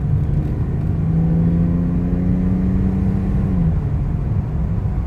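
A 1998 BMW 323i accelerating up to speed, its engine drone rising steadily with a strong low hum and road rumble from inside the car, continuous and fairly loud with no talking.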